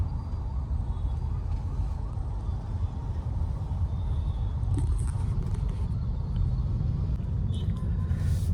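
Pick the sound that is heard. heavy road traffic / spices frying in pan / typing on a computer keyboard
heavy road traffic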